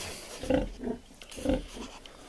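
A sow grunts several times in a slow, uneven rhythm a few hours after farrowing her piglets, each low grunt close by and moderately loud with short pauses between.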